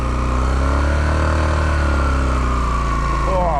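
A dirt bike engine pulls away slowly in first gear on a Laos touring loop, a loud steady low drone held close, rising in pitch near the end.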